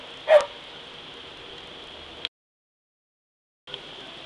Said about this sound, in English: The dogs aren't very happy.